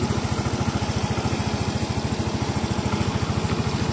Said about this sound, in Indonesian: tuh mesinnya halus